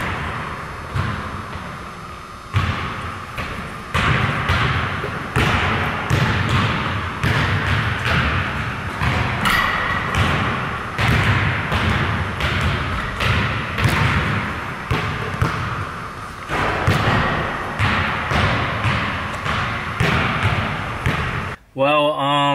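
A basketball bounces repeatedly on an outdoor court during casual shooting practice, a string of sharp thuds in loose, irregular rhythm, fairly close and loud, with some muffled thumps between dribbles.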